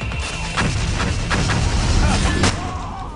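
Rocket attack explosions from a boss fight in the No More Heroes video game, several loud booming blasts and thuds firing in quick succession over a rumbling game background, with someone talking.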